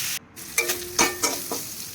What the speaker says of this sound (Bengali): আমার চিকেনগুলো আস্তে আস্তে ভাজা হচ্ছে